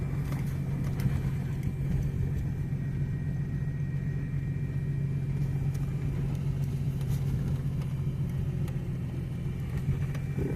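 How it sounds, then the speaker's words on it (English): An old truck rolling slowly along a muddy, snowy back-country track, a steady low rumble of tires and engine heard from inside the cab, continuous and unbroken with no talk. "hear what them tires are doing"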